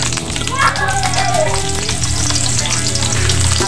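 Garlic frying in hot cooking oil in a pan, a steady close sizzle with faint stirring, alone without talk.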